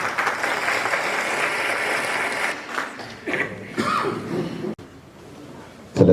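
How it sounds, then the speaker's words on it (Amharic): An audience at a graduation ceremony claps, a sustained wash of applause that fades into scattered claps, brief rustling and a sharp knock, then quiet. "Please clap."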